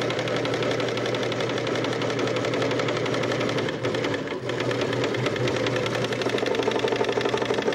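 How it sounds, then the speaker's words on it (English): A National binding machine stitches around a corner, giving a steady, rapid mechanical chatter at even volume close by, with a brief dip partway through before it carries on. "drop your feed roller and continue your stitching."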